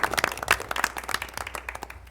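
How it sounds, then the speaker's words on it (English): A small group at a school board of education meeting gives scattered, uneven clapping for a staff member. The claps are close, light and sparse, and they taper off within a couple of seconds. "let's give him a round of applause"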